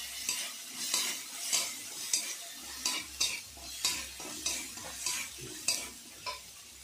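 Garlic and green chili paste fries in a pan with a soft sizzle, broken by a rhythmic series of spatula strokes scraping and tapping roughly every half second, close-up and without talk.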